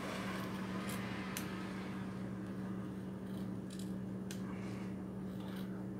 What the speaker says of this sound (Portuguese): Tesoura também tá meio cega.